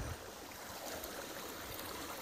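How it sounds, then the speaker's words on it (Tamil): River swollen after a day of rain: a quiet, continuous rushing of flowing water with faint splashy texture, steady and uninterrupted, no voices. "நேற்று மழை வந்த ஒரே நாளுக்கு இந்த அளவுக்கு தண்ணி போயிட்டுருக்கு."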